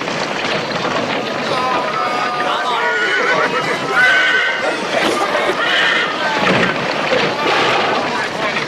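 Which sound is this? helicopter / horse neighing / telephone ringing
horse neighing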